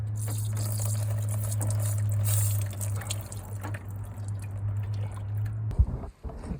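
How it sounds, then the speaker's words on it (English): Water drips and trickles close by from a leaking water pump on a Mk2 Volkswagen Golf, over a steady mechanical hum, with a few louder knocks near the end. "The water pump's leaking."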